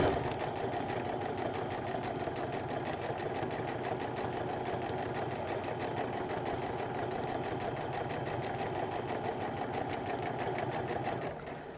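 A sewing machine stitching an apron with a 1/8 inch stitch, a steady rapid mechanical whirr running continuously at close range with no talk.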